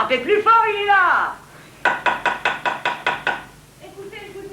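A loud run of about seven firm knocks on a door, framed by people talking just before and after, during a stage performance of Ionesco's Tueur sans gages.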